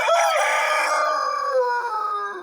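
A Wyandotte rooster crows once, a loud, close, drawn-out call that rises and then trails off slowly, with no talk over it.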